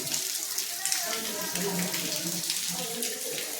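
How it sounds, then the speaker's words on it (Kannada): Spring water flows steadily at Amareshwara Amaragunda, a bright continuous splashing rush heard close up, with a voice speaking over it. "ಇದೇ ರೀತಿ ಹನ್ನೆರಡು ತಿಂಗಳ ಕಾಲ ಕೂಡ ಇದೇ ರೀತಿ ನೀರು ಹರಿಯುವಂಥದ್ದು"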